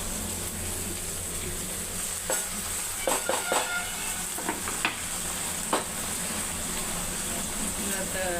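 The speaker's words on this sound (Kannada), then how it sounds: "ಎರಡಕ್ಕೂ ಜಸ್ಟ್ ಎಣ್ಣೆ ಹಾಕಿ ಉಳ್ಳಾಗಡ್ಡಿ ಹಾಕಿ ಫ್ರೈ ಮಾಡತ್ತೀನಿ" Onions frying in oil in a home kitchen pan, a steady sizzle with a few scraping stirs and clinks over a constant low background hum.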